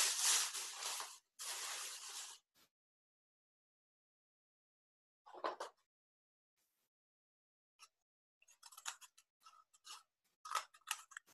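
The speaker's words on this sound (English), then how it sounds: "you need to cut out each bit on each side and save it" Scissors snip through paper while cutting out a rocket shape: two longer cutting strokes at first, then, after a pause, a few short scattered snips, close and quiet.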